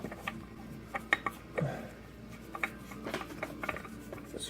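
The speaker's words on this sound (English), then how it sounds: "Screw it in as tight as you can get it by hand." A fresh oil filter is screwed in by hand on a Stryker, producing sparse, close metallic clicks and gritty thread-scraping ticks with quiet gaps between them.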